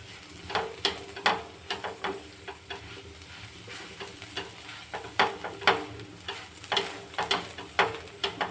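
Yardlong bean mash with sugar being stirred in a pan, giving a string of soft scraping and tapping strokes over a faint low sizzle, close and moderately quiet, no talking.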